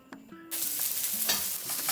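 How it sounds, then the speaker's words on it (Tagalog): Garlic and onion sautéing in a pan for Filipino lechon paksiw, a loud steady sizzle and frying hiss with occasional stirring scrapes, close up and alone without talk. "Bawang sibuyas, syempre. Gigisa-gisa lang natin yan"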